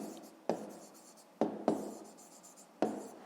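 A pen writes on paper during a fifth-grade maths exercise, with four sharp tap-like strokes followed by scratchy scribbling, close and fairly quiet.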